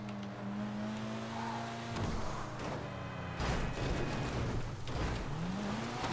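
A Vapid Retinue drifting across snow in GTA 5, its engine droning steadily while tire noise swells and slides in and out, rising again near the end with no voices over it.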